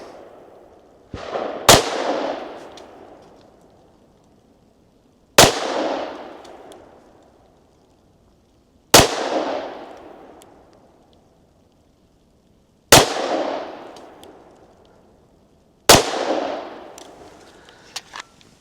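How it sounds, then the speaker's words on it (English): Five loud 10mm pistol shots firing shape charge ammunition at a range, spaced a few seconds apart, each a sharp crack followed by a short fading echo, with no voices. "So we'll shoot the pistol first."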